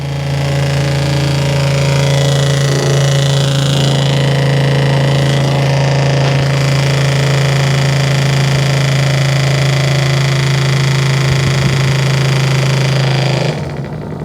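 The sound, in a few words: BreAro fuel pump running on a battery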